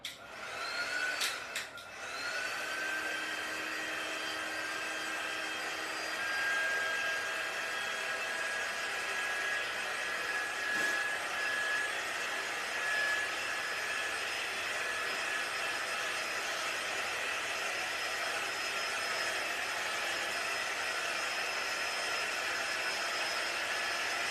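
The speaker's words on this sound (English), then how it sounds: "my heating tool. And I'm going to quick dry this area." Heat tool running steadily on craft paper scroll art, a constant whooshing blower hiss that goes on alone for the whole stretch after a brief click at the start.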